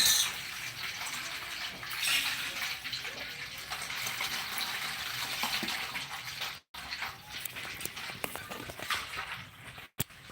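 Water pours continuously from a tap with a steady hiss and splash, fairly faint, with a few brief dropouts.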